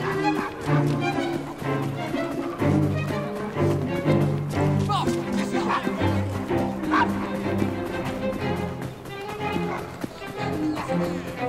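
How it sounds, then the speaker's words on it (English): A dog barks in the video game Assassin's Creed Syndicate, with sharp barks mixed into a dense layer of music and game sound. "Nice doggy."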